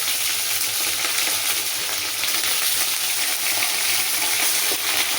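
Pointed gourd pieces frying in oil on low heat give a steady, close sizzle with light stirring and clinking throughout.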